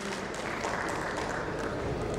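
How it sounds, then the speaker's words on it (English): Steady applause from a conference audience welcoming a panel guest, a dense continuous patter of many hands at even loudness throughout. "A big round of applause."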